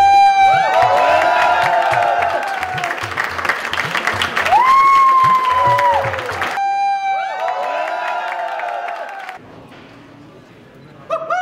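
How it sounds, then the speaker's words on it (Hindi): A crowd at a delivery ceremony applauds and cheers loudly, with whoops and a dog barking amid the clapping, under loud music. The noise fades to near quiet, then a brief burst returns at the end. "तालियों के साथ"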